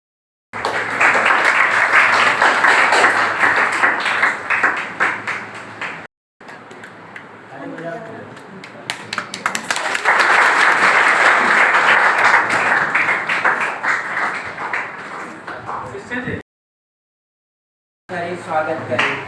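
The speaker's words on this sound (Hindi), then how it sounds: "इसका श्रेय अनिता मैम के लिए जोरदार तालियां" Loud applause from an audience at a nursing course launch event in Darbhanga, honouring Anita ma'am; two sustained bursts of clapping with a short gap between them, then a silent stretch and a brief final burst.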